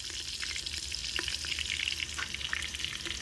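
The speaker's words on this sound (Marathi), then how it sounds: "आता मम्मी टाकणार आहे कांदे." Onions frying in a pot of cooking handi, a loud close hissing sizzle with steady stirring scrapes running unbroken, no speech.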